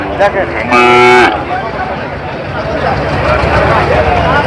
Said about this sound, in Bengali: আপনাদেরকে আরো কিছু গরু দেখাচ্ছি